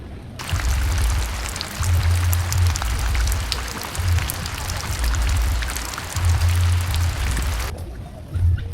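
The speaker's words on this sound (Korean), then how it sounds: "보라매 공원의 실개천에 물이 졸졸 흐르고 있군요." Steady water flowing and splashing in a small stream at Boramae Park, Seoul, a continuous broadband rush with a low rumble underneath, sustained throughout with no voices.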